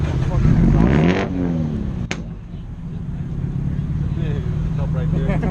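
At a car meet, a car exhaust revs loudly up close and then settles back, with excited voices talking over the engine noise.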